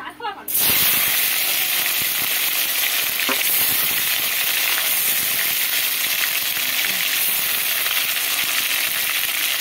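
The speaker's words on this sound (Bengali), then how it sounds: "এবার আমি পনিরগুলো ভেজে নেব তেলে" Paneer pieces frying in hot oil, a loud dense sizzle that bursts in abruptly and then holds steady and close, with faint bubbling crackles running through it.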